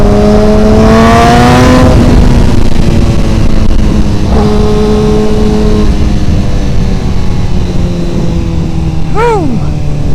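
A tuned 2025 Suzuki GSX-R1000R sport bike engine revs up loudly with a rising, sweeping pitch, then drops back into a steady idle with a few short exhaust blips, and ends on one quick rev near the end.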